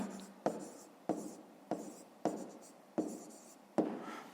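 A pen writes a fifth-grade maths solution by hand on paper, with close, scratchy strokes arriving in about six steady bursts, each starting sharply and then trailing off, and no voice.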